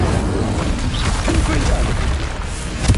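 An Incendio fire spell erupts in the Hogwarts Legacy video game as a dense, roaring whoosh of flame with low booming rumbles and crackling bursts, loud and continuous.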